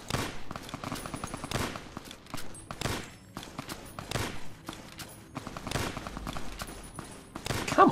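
Gunfire rattles through a Fallout: New Vegas firefight, with rapid bursts and single shots cracking loudly and unevenly over several seconds, along with a few faint footsteps.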